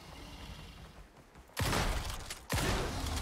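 Two loud, close shotgun blasts in the video game Icarus, about a second apart, each a sharp broadband crack with a booming low tail, over quiet game ambience.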